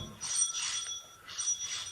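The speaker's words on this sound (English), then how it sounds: "the front doorbell rang" A front doorbell rings in a radio drama, two bright bell trills a moment apart, clear and close with no voices over them.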